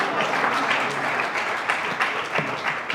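Audience at a Hindi comic poetry gathering breaks into steady, full applause, many hands clapping densely and fairly close for the whole stretch with a few sharper individual claps standing out.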